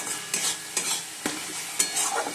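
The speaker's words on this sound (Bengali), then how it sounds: "এই যে মশলা কষাচ্ছি" Spices, including ginger, green chilli, cumin and coriander powder, fry in a pan with a soft sizzle as a spoon scrapes through them in four or five distinct, evenly spaced strokes, close and with no talking.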